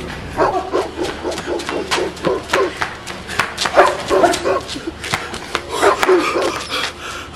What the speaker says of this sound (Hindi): ये शहरा के कुत्ते बहुत जंगली कुत्ते रहेंगे